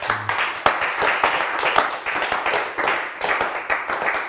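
Studio audience on a Turkish word game show claps in a brief, moderately loud burst of applause, with dense overlapping hand claps and no talk over it.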